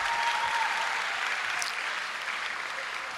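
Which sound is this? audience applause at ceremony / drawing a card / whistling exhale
audience applause at ceremony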